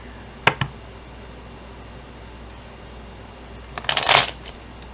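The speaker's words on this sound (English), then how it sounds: "Here's some shuffling." Tarot cards being shuffled during a reading, two short riffle bursts near the start followed by quiet, then a louder, longer flurry of card riffling and flicking near the end, close and alone.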